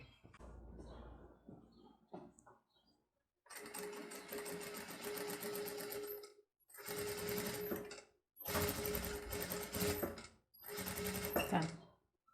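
Overlock sewing machine finishing the hem of a circle skirt, running in four loud bursts of rapid whirring stitching separated by short pauses, close up, with faint handling noise before it starts.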